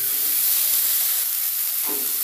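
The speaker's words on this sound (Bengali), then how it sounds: "একটু ভাজা ভাজা হওয়া পর্যন্ত অপেক্ষা করব" Vegetarian dish ingredients frying in a pan before greens are added, giving a steady, close hiss and sizzle with a brief louder flare near the end.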